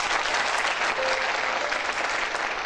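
A crowd of students at a college freshers' party in Bhopal applauds, a dense, steady roar of clapping filling the space at full volume without a break.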